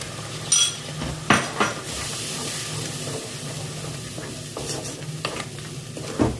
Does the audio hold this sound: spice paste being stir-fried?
yes